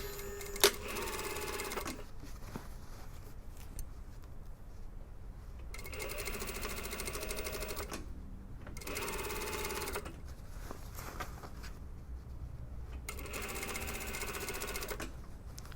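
A sewing machine stitches the hem of a lined jacket in several bursts of rapid mechanical whirring, each lasting a couple of seconds, separated by quiet pauses, close and moderately loud.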